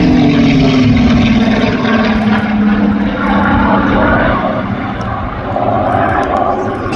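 A Supermarine Spitfire with a Rolls-Royce engine roars past at an air display at the Midlands Air Festival, a loud sustained propeller-engine drone with a slowly falling pitch, joined by commentary voices.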